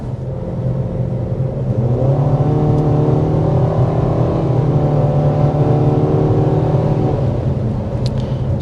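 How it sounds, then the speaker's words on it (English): A 2025 Nissan Kicks with a CVT accelerating from a rolling start: a loud, steady engine drone that rises in pitch and holds, mixed with road rumble, heard from inside the cabin without talk. "A little bit of a rolling acceleration."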